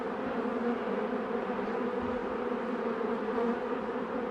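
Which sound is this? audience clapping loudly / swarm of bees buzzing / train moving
swarm of bees buzzing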